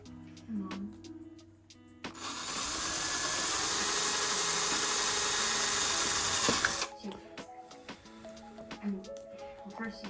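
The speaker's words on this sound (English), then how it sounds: "we're just preparing for that now by drilling those two zip tie holes first" A power drill whirs up and runs steadily for several seconds drilling zip tie holes during an under-sink water filter install, then stops; quieter handling clicks and knocks surround it.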